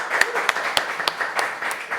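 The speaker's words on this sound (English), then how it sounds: "Keep clapping." Scattered, uneven clapping from a small crowd, a few sharp claps standing out over a steady wash of applause and faint background voices.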